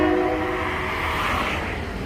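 A diesel railcar train at a suburban stop by a hospital halt, its horn sounding as steady tones early on over a constant, loud rumble of rail and engine noise.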